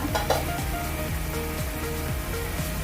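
A pot of tofu and pork with salted black beans bubbling and sizzling up close, with a steady crackle and occasional soft pops, no voices.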